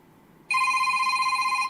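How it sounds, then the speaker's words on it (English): A phone suddenly begins ringing with a steady electronic tone after a brief quiet moment, loud and close, with no talking over it. "Who's ringing me?"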